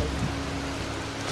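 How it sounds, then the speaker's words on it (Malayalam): Rain falls in the Rajasthan desert, a steady broadband wash of drops close by, even and unbroken for the whole moment, with no one speaking. "അടിപൊളി മഴ."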